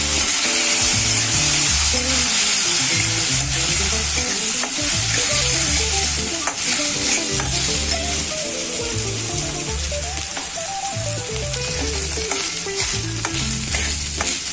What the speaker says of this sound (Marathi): तांदूळ मी तुपावर चांगल्या प्रकारे छानपैकी भाजून घेणार आहे